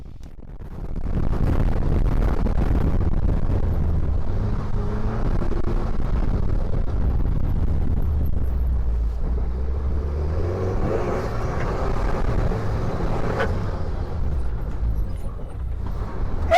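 A Segway Super Villain gas turbo side-by-side, 235 horsepower, accelerating hard with a steady low engine rumble and whir that holds close and loud for most of the stretch, no voices.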